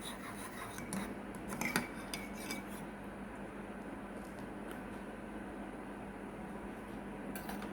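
Cold milk mixed with white vinegar is stirred in a bowl, giving faint, continuous scraping and light clinks of a utensil against the dish.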